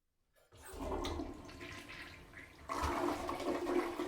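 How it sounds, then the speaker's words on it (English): A toilet flushing in a home bathroom, a rushing gurgle that swells after a quiet start and surges louder midway, with no talking. "The toilet won't flush. The water keeps rising."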